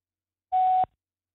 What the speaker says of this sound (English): we're dialing now